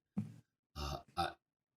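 Three short, separate bursts, each one a sneeze or a sneeze-like sound, heard alone against silence during a podcast conversation.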